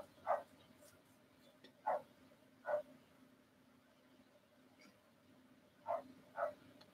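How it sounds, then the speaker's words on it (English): A dog barks at feeding time five times at uneven intervals, short single woofs with long pauses between, faint over a steady low hum. "Sorry about the barking, it's feeding time at the zoo."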